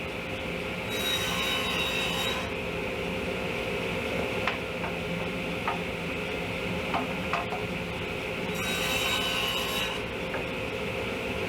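A table saw with a regular blade ripping 3/16-inch plywood, two whining cutting passes over a steady motor hum, with a few clicks between them, close and fairly loud.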